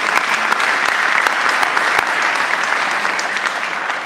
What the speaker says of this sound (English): So one more round of applause for all of them.